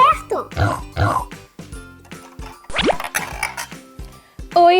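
A voice imitates a pig, giving a series of snorting oinks and grunts in short bursts, with playful childlike vocal sounds around them and some talk.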